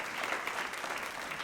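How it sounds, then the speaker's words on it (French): A church congregation applauds together, a dense, even patter of many hands that holds at a moderate level through the short stretch without any speech. "Vous pouvez applaudir si vous avez envie d'applaudir."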